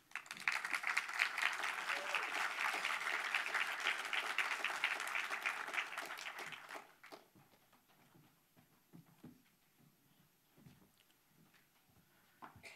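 A conference audience breaks into loud, dense applause to welcome a speaker, sustained for about six seconds before thinning into scattered claps and faint room noise.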